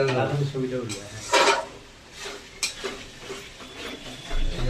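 A spoon scrapes and knocks in uneven strokes as tomato masala is stirred in a cooking pan, with a soft sizzle underneath. A voice talks over much of the stirring.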